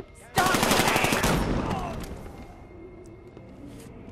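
In the Batman Arkham Knight video game, a loud burst of automatic gunfire rattles out in a rapid volley, then fades into a ringing tail with faint scattered sounds afterward.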